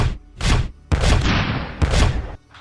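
The Fire Gamin fires twice in a cinematic Malifaux battle animation: heavy booming gunshot effects, loud and close, separated by short gaps, with a rumbling tail after the middle blast.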